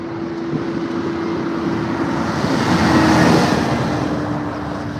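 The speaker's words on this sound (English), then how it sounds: "Is that a tractor coming?" A tractor approaches along a road and rumbles past nearby, its broad engine noise swelling to a peak midway before fading, with no talk over it.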